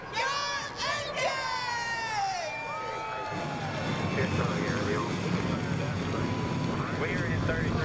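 Stock race car engines firing up together at Homestead in the NR2003 racing game, rising into a loud, sustained multi-car roar after an opening stretch of shouted voice and crowd noise.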